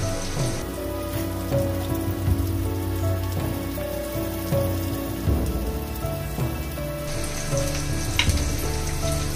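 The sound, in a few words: onion frying in a pan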